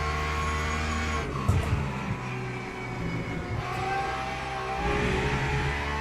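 Steady, loud engine drone from racing cars in Le Mans Ultimate, with cars passing in traffic. Layered harmonic whine sits over the drone, and small swells and passing surges run all the way through.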